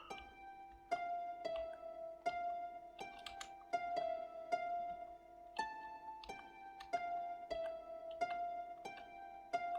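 Steady rhythm-game keystrokes on a German-layout computer keyboard, crisp evenly spaced clicks layered over tonal game music notes, close and moderately loud with no talk.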